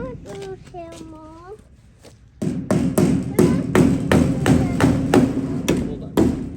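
A hammer strikes wood again and again in a steady, loud series of thumps while a chicken tractor for meat birds is built on a Wisconsin farm; someone talks before the pounding starts.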